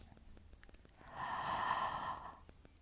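A single long, softly voiced exhale during a guided relaxation breathing exercise, close and gentle, swelling for about a second before fading into quiet room tone.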